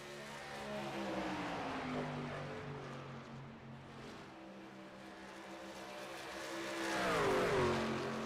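Race trucks circle the oval at Charlotte Motor Speedway in a Midwest Motorsports series race, their engines a layered, droning whine at moderate distance that swells as a truck sweeps past near the end.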